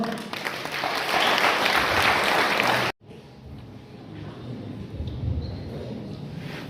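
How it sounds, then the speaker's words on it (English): Students and audience at an inter-school quiz competition applaud an answer, a loud, dense burst of clapping that cuts off abruptly after about three seconds, leaving quieter room noise and low murmuring behind. "can we have a big round of applause for that answer"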